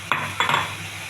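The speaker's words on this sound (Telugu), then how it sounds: "ఇది బాగా కలుపుకోవాలండి." Chicken with salt and garam masala stirred in a pan, with a few sharp metal clinks of the utensil against the pan over a faint background sizzle.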